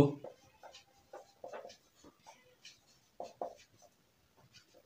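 Chalk or marker scratches out an equation on a board in short, faint strokes and taps with brief pauses, alone and close by.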